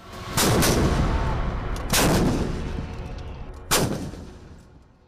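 Dhanush howitzer artillery firing, three heavy booming reports spaced about one and a half seconds apart, each with a long rumbling decay, loud and close with no talk over them.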